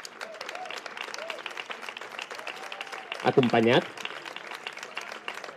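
An audience at a poster presentation for the Festes de Tardor 2024 in Sant Feliu de Llobregat applauds steadily for Jaume Vilà, an even crackle of moderate clapping while a voice speaks briefly and another says a few words near the end.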